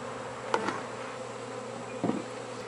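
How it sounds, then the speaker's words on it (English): Honey bees from a split colony buzz around their newly built hive on its stand, a steady low drone of insects with two brief louder passes nearby. "Poor bees are all grouchy and discombobulated, but they are in their new home."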